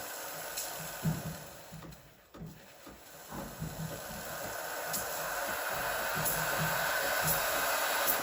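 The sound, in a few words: Breville Barista Express BES870 steam wand and pump running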